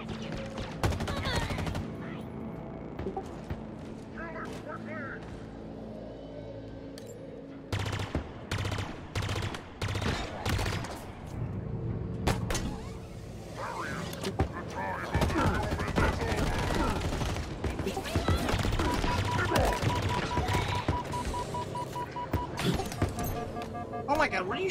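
Bursts of rapid automatic gunfire and single shots ring out in a Halo Infinite heroic campaign firefight, loud and close, broken by gaps, with a player talking over parts of the action.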